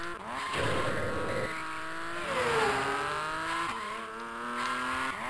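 A Mercedes race car engine drones and revs in a Sega-era arcade racing game, its pitch rising and falling through gear changes over game music, steady and prominent.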